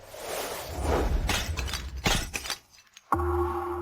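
A porcelain vase is smashed and the pieces clatter and shatter across a few seconds, then a short near-silence before a sustained tonal hum starts.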